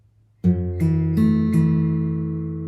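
Four plucked acoustic guitar notes, each low string struck in turn and left ringing, played clearly and close with no voices.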